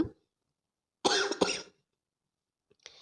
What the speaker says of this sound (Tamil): தொண்டையெல்லாம் இருமல் தாங்க வருது